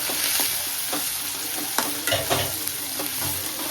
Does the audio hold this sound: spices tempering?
yes